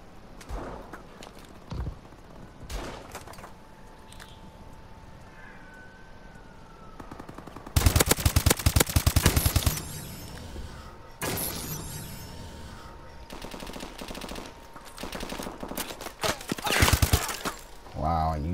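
Rapid bursts of KF5 submachine gun fire in Call of Duty: Advanced Warfare, loud dense automatic volleys in two main stretches with scattered single shots, over game ambience and talk.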